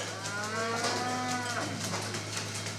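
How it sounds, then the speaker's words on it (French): Dairy cows mooing as they are let out of the milking barn, several long, low, drawn-out moos one after another, close and loud over a steady background hum. "on s'en va sortir les vaches"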